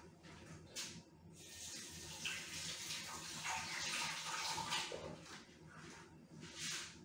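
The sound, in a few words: washing hands under running tap water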